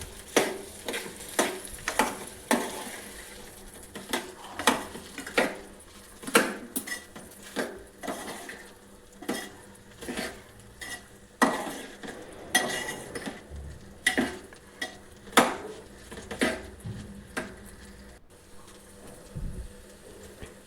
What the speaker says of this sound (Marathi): आता यामध्ये आपण तेलामध्ये भाजलेली भेंडी घालून घेऊन व्यवस्थित